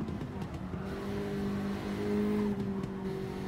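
Honda Integra in GT7 lapping the Nordschleife near full throttle, the engine humming steadily and loudly, with a brief dip and faint tyre noise over the track ambience.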